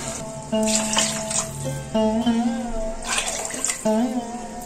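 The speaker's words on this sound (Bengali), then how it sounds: "আমি এখন গরম জল দিয়ে দেব" Hot water poured in several separate bursts into a cooking pot for basanti pulao, each pour a close, splashing gush, with brief pauses between them.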